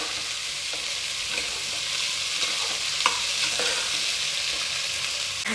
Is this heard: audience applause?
no